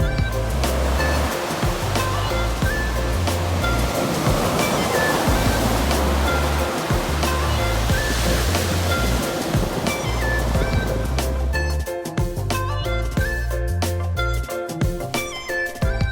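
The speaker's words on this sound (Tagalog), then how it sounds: "Ito ang kabuuan ng dagat." Ocean waves roar continuously and loudly, a steady rushing surf that swells and washes without pause.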